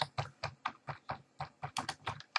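Keys clatter on a computer keyboard in a steady run of crisp, close taps, with a brief faster flurry near the end.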